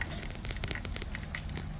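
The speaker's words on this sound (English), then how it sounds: "But butter's sizzling up" Butter sizzling on a beer can chicken on a barbecue, a steady bright crackle and hiss with scattered pops, close by and with no talk.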